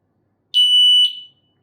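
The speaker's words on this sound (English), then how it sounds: "it's gonna do only one beep and then a long one after" One brief piercing beep, then a longer steady electronic tone that trails off as a KOVIX Steel Thunder bike lock alarm arms, loud and near with quiet around it.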